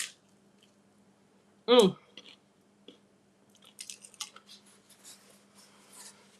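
Grain-free tortilla chips made crunchy in an air fryer with oil and salt crunch once loudly up close, followed by softer scattered chewing and a few small mouth noises.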